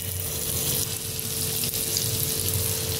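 Butter melts and sizzles in a hot pan before bread is added for a bread masala, giving a steady, close frying hiss with a faint hum beneath and no talk.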